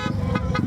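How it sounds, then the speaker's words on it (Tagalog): Horn of a classic bicycle fitted with a motor, two short honks in quick succession, moderately loud over a running-engine drone. "Tapos, ang ganda pa ng busina niya."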